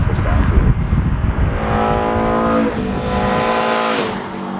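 BMW E30 M3 high-revving four-cylinder engine revving up hard and holding high revs, a loud close rising whine that stays strong, then eases off at the end.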